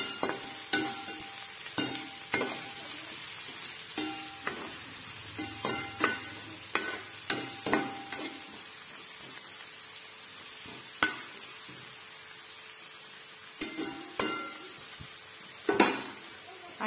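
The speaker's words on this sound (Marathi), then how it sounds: "कांदा चांगला परतून घ्यायचा।" Onion sautéing in a pan, a low steady sizzle under repeated sharp scrapes and knocks of a spoon against the pan as it is stirred, irregular strokes close by, no voices.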